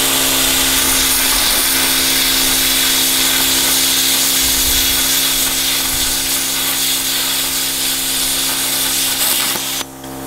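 Compressor-free plasma cutter slicing through 3 mm metal, giving a loud, constant hissing roar that holds steady for about ten seconds at close range before cutting off abruptly near the end.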